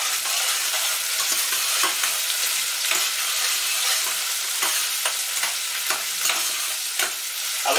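Red chilies with half a habanero and half a Scotch bonnet pepper frying in a pot, a continuous bright sizzle broken by scraping stirs, close and steady with no voices.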